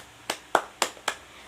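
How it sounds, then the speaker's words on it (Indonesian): Sharp, separate hand claps in a classroom, four distinct claps spaced roughly a quarter second apart, close and crisp with short decays and no talking. "Beri tepuk tangan untuk Adi."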